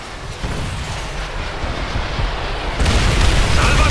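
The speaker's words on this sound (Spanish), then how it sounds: "¡Salva sobre objetivo! ¡Muy bien, marines!" A rocket salvo slams onto its target in Call of Duty: World at War, a sustained rumbling roar of explosions that swells louder and harsher near the end.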